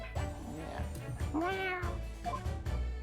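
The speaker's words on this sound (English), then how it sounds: "Aww. Cat." A cat meows in The Great Ace Attorney Chronicles video game, giving a clear rising meow near the middle, with softer cat calls around it. Game music and sounds play underneath.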